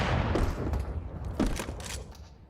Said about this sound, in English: A couple missed shots from ZywOo